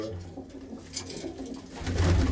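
Large pigeons coo low and steadily nearby amid a busy background hum, the sound growing slightly louder toward the end of the short stretch.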